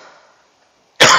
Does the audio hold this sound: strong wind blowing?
no